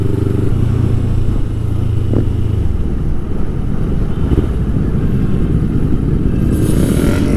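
Motorcycle engines at a large riders' gathering roar in a dense, continuous wash, loud and steady, mixed with heavy wind noise buffeting the microphone.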